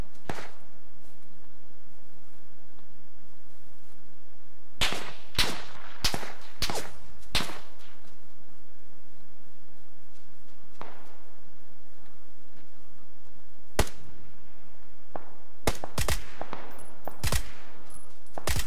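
Gunfire in PUBG, sharp loud cracks in short bursts and single shots separated by quiet stretches, a cluster mid-clip and another near the end.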